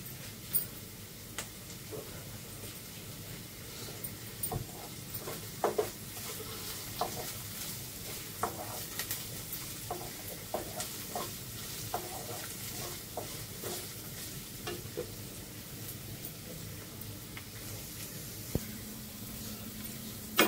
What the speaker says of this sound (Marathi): हे बघा आपला कांदा मस्त शिजलाय.